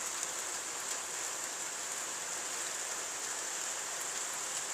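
Steady, dense rain pours down in a violent summer thunderstorm in Carpentras, a continuous broadband hiss of drops hitting surfaces that holds even and strong throughout with no voices.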